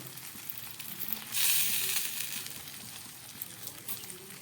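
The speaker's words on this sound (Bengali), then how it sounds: "দেখুন ফুটছে।" Hilsa fish with mustard, steamed in banana leaf, bubbles and hisses softly in a covered pan, the hiss swelling louder for a moment before settling back to a steady simmer.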